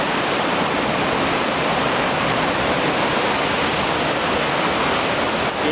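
Sea waves surge into a rocky sea cave at Cala dels Testos, Cova dels Arcs, producing a dense, loud, unbroken roar of rushing water that fills the whole stretch without talk.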